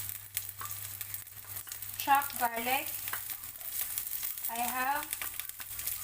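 Chopped garlic, five cloves, sizzling and crackling in a hot pan for vegetable manchurian, a steady close frying hiss while a voice talks over it briefly.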